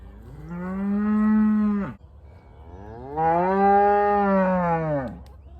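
Dexter cattle on spring pasture giving two long, loud moos, each rising and falling over about two seconds with a short pause between.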